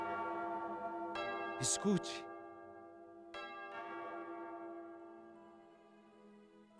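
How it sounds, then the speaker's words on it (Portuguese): A church bell rings during a novena service for Our Lady of Guadalupe, with a few clear strikes that hang in long ringing decays. A voice speaks briefly between the strikes. "Toca o sino, sacristão,"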